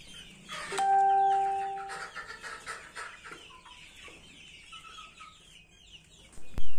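Elba chickens at 60 days old cluck and call from close by, with short tonal calls and a loud burst near the end.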